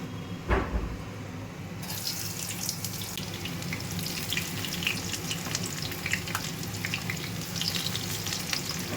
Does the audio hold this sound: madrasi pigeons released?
no